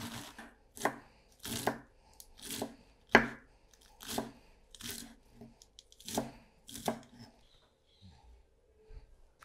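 A knife cuts washed spinach leaves in about ten crisp, fairly quiet chops at an uneven pace, with no speech.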